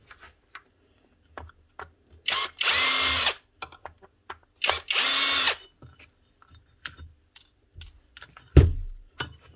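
A power driver whirs in two short, loud bursts to back out screws from the rear of a Bosch GSH27 breaker hammer, separated by light clicks and handling taps, close up.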